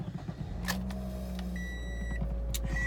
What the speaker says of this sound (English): Let's turn this car on.